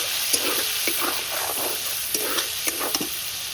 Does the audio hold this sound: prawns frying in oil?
yes